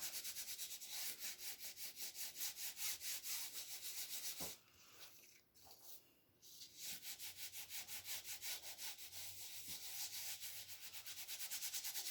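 A Momento black ink pad rubbed all over paper, a continuous rhythmic scrubbing that pauses briefly midway, quiet and close, with no talk.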